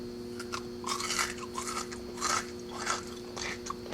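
Crisp crunching bites and chewing of crispy tater tots, close up, in a few bursts over a few seconds with no talking.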